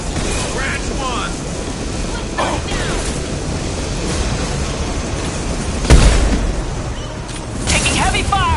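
Gunfire and heavy impact shots ring out in a Mass Effect 2 combat scene: sporadic cracks and one sharp, loud blast near the middle, over a constant noisy battle background with voices calling out.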